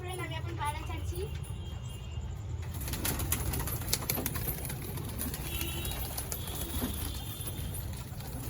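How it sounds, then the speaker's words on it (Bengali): Domestic pigeons let out of a home loft, with soft cooing and bursts of flapping wings over a steady background hum and nearby human voices. "তো এখন পায়রা ছাড়া হবে"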